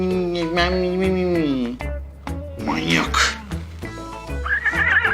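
A horse neighs loudly and close in repeated whinnies with breaks between them, and a person's voice comes in among the calls.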